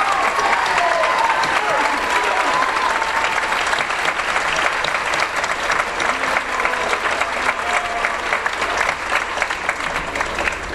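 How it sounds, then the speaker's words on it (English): Sustained applause from an audience at a high school awards ceremony, dense and steady clapping that fills the whole stretch at a fairly loud level, with scattered voices faintly underneath. "can we just give a big hand of applause for Val Otto"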